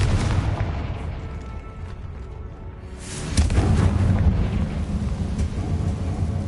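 A Confringo explosive spell in the Hogwarts Legacy video game detonates with heavy rumbling booms, a loud low blast swelling midway and rolling on like thunder, with no voices over it.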